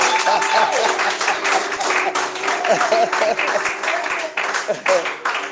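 A church congregation claps and cheers to acclaim the Lord, a dense, steady burst of applause filling the room, with voices and shouts mixed throughout.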